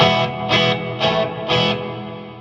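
Electric guitar chords strummed in a steady rhythm, washed in a thick, shimmering artificial reverb that blurs each strike into the next.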